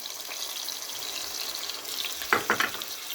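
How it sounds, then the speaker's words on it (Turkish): A peeled tomato goes into a hot pan of frying leeks and carrots, producing a steady sizzle with a few sharp wet spatters and stirring knocks near the end. "kabuğunu soyduğum domatesi ilave ediyorum"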